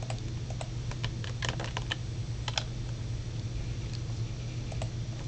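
Rapid typing on a computer keyboard, with irregular bursts of close, crisp key clicks over a steady low hum, and no talking.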